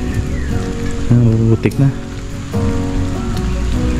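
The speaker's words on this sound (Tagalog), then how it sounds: "Ay, lumalakas ang ambon." A light drizzle patters steadily on surfaces at an outdoor campsite. A person speaks briefly over the soft, continuous rain.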